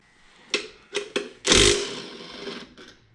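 A wrench loosens a 10 mm bolt on a New Edge Mustang throttle body: a few sharp metallic clicks, then a longer rasping burst, close up with no talking.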